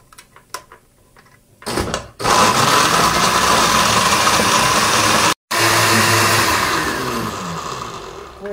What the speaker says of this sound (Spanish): Ahora sí, prendemos nuestra licuadora.